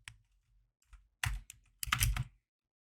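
Short bursts of clicky typing on a computer keyboard, a few isolated taps followed by two quick flurries of keystrokes, close and fairly quiet.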